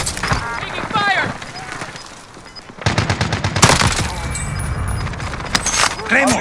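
Gunfire in the video game Call of Duty Modern Warfare, rapid machine-gun bursts and scattered shots, loud and close, interleaved with game voice lines and clattering effects.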